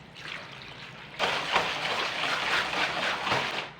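Water is poured into a bowl of bread dough mixture made with flour, yeast, eggs and strawberry flavoring, starting as a soft trickle and turning into a steady, close splashing stream that runs for several seconds.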